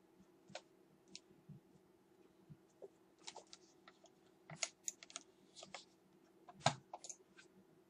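Computer keyboard typing at a gaming setup, with scattered quiet key clicks and short bursts of taps at an irregular rhythm, close and fairly faint over a low steady hum.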